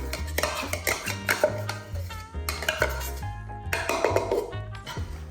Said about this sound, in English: So now we're just gonna dump all the herbs in.